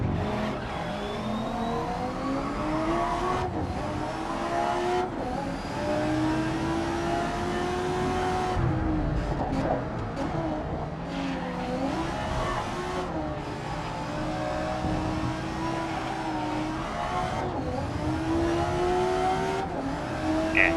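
An upgraded race car's engine drones and revs in a video game race, rising and falling pitch sustained throughout with occasional shifts, loud and close, no talking.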